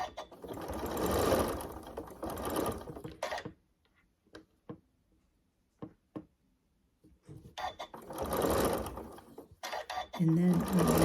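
Sewing machine stitching quilt fabric for a Hunter Star block, two runs of quick steady whirring at the start and end, with quiet clicks and handling noises in the pause between.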